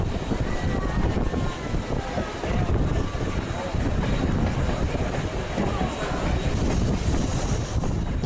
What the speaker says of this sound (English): this excursion train on the Lehigh Gorge Scenic Railway